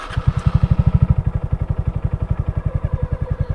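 A 2022 Honda Grom motorcycle engine running steadily close by, with a fast, even, throbbing low-pitched exhaust pulse and a slight rattle.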